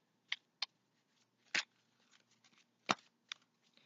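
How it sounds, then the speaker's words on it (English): Tarot cards are shuffled by hand in soft, scattered bursts of riffling and sliding, a few sharper snaps among quieter rustles, close and faint, with no talking. "start shuffling here."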